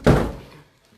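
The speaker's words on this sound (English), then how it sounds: "I'll just close this door, guys," A room door swings shut with a single solid thunk, close and fairly loud, its low boom decaying over about half a second with no talk over it.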